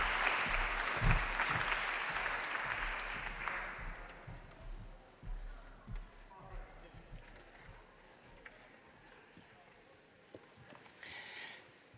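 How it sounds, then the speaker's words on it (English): Audience applause at a climate innovation forum rises in dense clapping for a few seconds and then thins out to scattered claps and room noise, with a voice partly heard under it. "Big round of applause."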